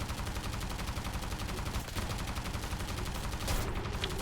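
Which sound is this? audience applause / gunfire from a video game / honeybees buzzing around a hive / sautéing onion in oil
gunfire from a video game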